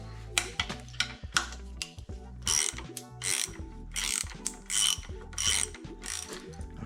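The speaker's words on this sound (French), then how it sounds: "peut-être que je dois dévisser un petit peu en haut" A hand ratchet clicks in repeated bursts while bolts are loosened on an engine being opened up, loud and close, with short pauses between strokes and no talk.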